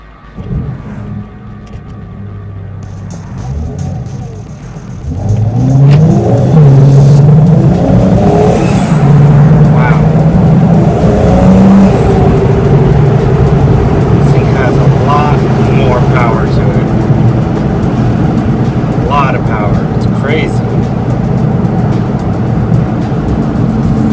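A BMW 335i with the N54 engine, MHD Stage 2+ tune, intercooler and catless downpipes, idles and then accelerates hard. A loud, rising engine roar and exhaust drone continue through gear changes, with a voice talking over it at times.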